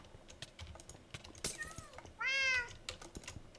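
Minecraft cats meow in the game, one loud, close meow standing out from scattered softer cries, over steady computer keyboard typing.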